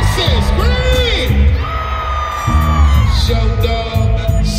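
A hip hop concert crowd at an arena in Cincinnati screams, whoops and yells loudly in a sustained roar, with a rapper's voice and booming music mixed in.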